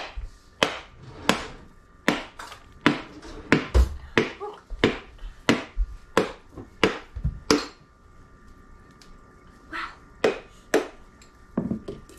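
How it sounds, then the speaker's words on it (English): Hammer taps on a whole coconut turned by hand, a steady run of sharp, knocking strikes close by, pausing briefly before a few more blows. "you just tap it with a hammer and just rotate it in your hand."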